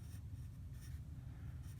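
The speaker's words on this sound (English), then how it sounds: "creating different values using the sketch pencil from DeWint" A DeWint sketch pencil scratches across paper while a watercolor portrait is drawn: soft, steady, faint strokes with a continuous rasping texture and no talking.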